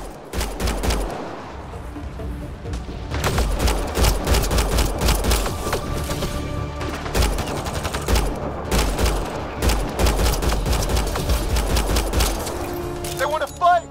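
Battle gunfire in Mass Effect Andromeda: loud, dense volleys of rapid shots and bursts that run almost without a break, with shouted dialogue from characters mixed in between.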